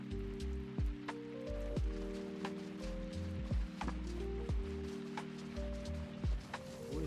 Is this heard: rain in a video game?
yes